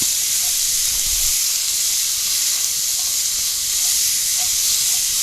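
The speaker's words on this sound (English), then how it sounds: "We're just going to soften the onions up a little bit." Onions, garlic and carrots soften in a Dutch oven at a cold-weather truck campsite, giving a steady, even sizzle and hiss that holds at one close, moderate level throughout with no talk.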